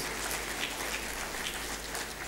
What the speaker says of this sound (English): I think he deserves a big applause for this.